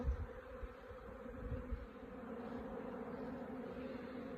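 Honeybees swarm around hives in a busy apiary, their steady, dense buzzing humming continuously at close range with no talk.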